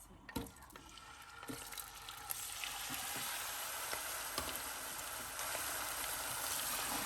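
Chicken frying in moderately hot oil in a karahi for Shinwari chicken karahi, a steady soft sizzle that builds after a few clattering knocks, fairly quiet throughout.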